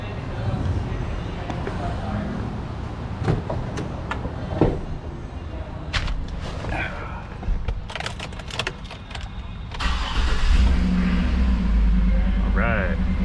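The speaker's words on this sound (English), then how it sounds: "start the engine and check for leaks time" A GMC Yukon engine with an oil leak, after a crankshaft repair, cranks and catches into a low, rising rumble near the end, following clicks, clanks and shuffling of work on the vehicle close by.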